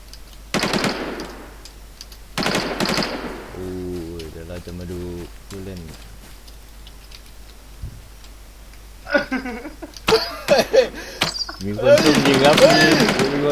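Bursts of gunfire from the zombie survival video game WarZ ring out in loud, dense clusters near the start and again toward the end, with a tonal game sound in the middle.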